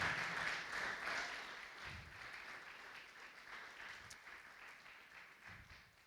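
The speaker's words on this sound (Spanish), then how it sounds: "Dale ese aplauso a Jesús, dáselo fuerte." Worshippers at a church service applaud, a soft, fairly distant clatter of many hands that gradually tapers off.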